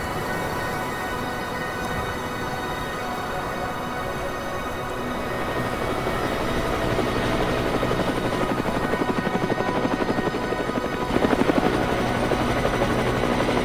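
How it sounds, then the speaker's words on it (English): A helicopter flies over alpine mountain terrain of cliffs and trees, its rotor thump and engine whine loud and continuous throughout, with the steady chopping pulse growing a little stronger toward the end. "Flying over the zone in the heli with Rob, Dave, and Brett"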